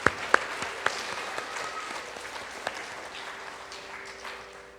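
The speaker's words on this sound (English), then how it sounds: "Big round of applause to all of us here." Audience at a 15th anniversary celebration gives a round of applause, opening with a few sharp, separate claps before settling into a steady, moderately loud spread of clapping that slowly fades.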